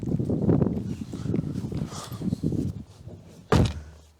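The rear door of a 1999 Renault Mégane Classic 1.6e rustles and creaks nearby, ending with a solid, close thunk of the door mechanism.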